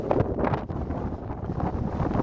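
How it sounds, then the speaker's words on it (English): Strong wind buffets and roars across the microphone in continuous heavy gusts on the coast at Sandwood Bay, Scotland, with no other clear sounds. "Oh, it's so windy. It is so windy up here."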